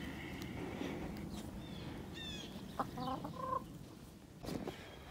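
Chickens clucking in a farmyard during a spring livestock check, soft scattered clucks and a few short squawks over a quiet outdoor background, fairly close but not loud.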